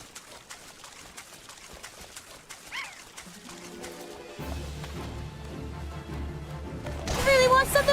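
A bird calls in the VR video game FF14, with a brief cooing chirp early on and louder, sharper calls near the end, over quiet ambience and a talking voice.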